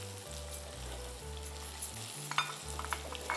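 Cumin powder, chili powder and onion powder fry together in a pan, giving a soft, constant sizzle with scattered small crackles beneath steady background music.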